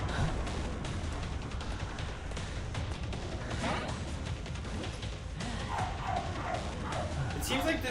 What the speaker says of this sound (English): This dog's not making it any better.